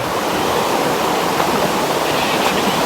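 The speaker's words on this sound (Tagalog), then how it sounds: "So malapit na kami sa waterfall guys." A waterfall rushes in a steady, loud, broadband roar that stays unbroken throughout, with no voices.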